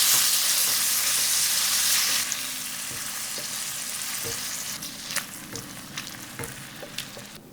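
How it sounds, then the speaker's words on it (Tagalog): Garlic and ground beef sautéing in a pan give a loud, steady sizzle that eases after a couple of seconds, with scattered scraping stir sounds close by and no talk. "Maggisa tayo ng bawang. Guys, ground beef ang gagamitin ko dito."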